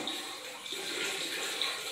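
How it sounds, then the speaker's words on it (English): Water splashing and trickling as a saw is lifted out of a tub of water, a faint continuous watery wash with light drips throughout. "Now I'm going to take the saw out of the water,"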